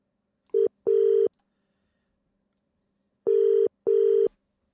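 Four short, clean telephone dialing tones sound in two pairs with a pause between, placing a call to a live radio phone-in show about football.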